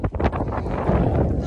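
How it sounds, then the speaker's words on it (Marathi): Strong gusty wind buffets the microphone outdoors in a loud, rumbling roar that surges and swells throughout. "एवढं जोरात वारा येते आता इथं"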